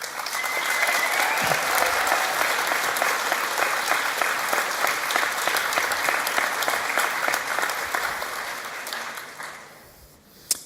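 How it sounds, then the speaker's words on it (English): Graduation ceremony audience applauding steadily in a hall, a dense sustained wash of many hands that holds strong for about nine seconds before thinning and fading out. "those graduating would wish to applaud you just one more time"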